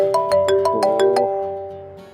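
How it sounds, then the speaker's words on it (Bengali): A mobile phone rings with a bright melodic ringtone, a quick run of clear electronic tones played close and loud before the sound fades away. "সব সময় শুধু তোমার ফোন আসে।"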